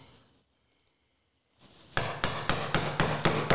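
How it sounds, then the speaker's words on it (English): A chisel is driven by hand to cut a dovetail baseline in wood, giving a quiet stretch and then a steady run of about seven sharp, loud mallet strikes in even rhythm, close up with no talking. "I've got to take my chisel right to that mark."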